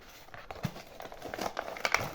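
Plastic packaging from a store crinkles and rustles as soft toy cubes are unwrapped, a quiet, close run of irregular crackles and rips with no speech.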